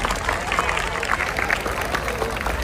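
An audience claps at a school Republic Day celebration, with dense, steady applause spread evenly throughout and voices mixed in beneath.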